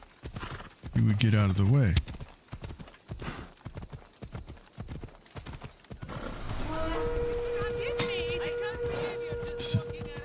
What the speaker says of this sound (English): Now you see a horse coming